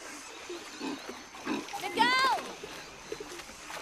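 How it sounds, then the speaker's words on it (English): In the jungle of the video game Shadow of the Tomb Raider, a brief pig-like squeal rises out of quiet ambient game sound, with a few faint rustles around it. "Sounded like a pig."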